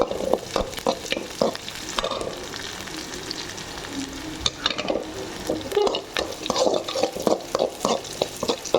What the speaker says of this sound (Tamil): நல்லா பொன்னாமல் இதை நல்லா வறுக்கணும். வெங்காயத்தை